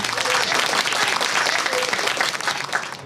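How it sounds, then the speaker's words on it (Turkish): Loud, dense applause from a gathered crowd fills the whole moment without letup, a brief celebratory burst of clapping. "alkışla alkışlayın"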